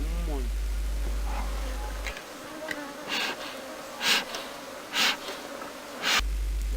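Honey bees buzz loudly as combs are moved one by one into a hive at a Zambian apiary in Copperbelt Province. Irregular swells of close, intense buzzing rise over a low steady hum.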